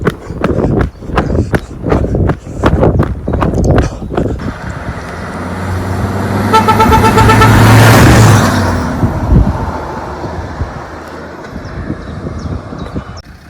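The engine of a rebuilt Land Rover Discovery 1 runs, swelling to a loud, droning roar midway as the vehicle moves, then easing back down; brief voices and knocking noises come first.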